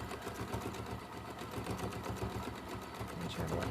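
A sewing machine stitches scratchy appliqué onto a fabric bag, its rapid, even needle chatter running close and steady for a few seconds without pause, at a moderate level with no talking over it.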